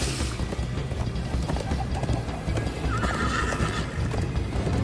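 Hooves pound in a steady galloping rhythm while a horse whinnies loudly in Minecraft: Story Mode, with continuous rumbling movement and faint bird calls in the background.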